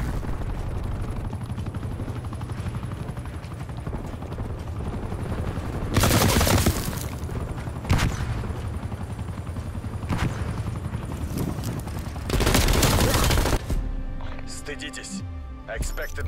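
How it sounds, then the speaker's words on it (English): An enemy attack helicopter drones overhead in Call of Duty Black Ops Cold War while loud bursts of gunfire break out every few seconds, and game voices call out and talk over the action. "enemy attack helicopter above"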